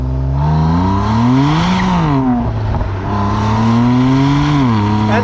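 BMW M2 Competition with its S55 twin-turbo straight-six accelerating, loud and close, the engine note climbing through revs, dipping at a gearshift and rising again.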